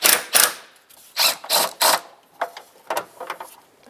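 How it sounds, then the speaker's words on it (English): A ratchet fitted with an 8mm socket and extension works a door handle bolt on a 2005-10 Jeep Grand Cherokee, giving close, loud bursts of rapid clicking in short strokes with brief pauses between them. "With an 8mm socket and an extension, I'm going to go right through that little porthole"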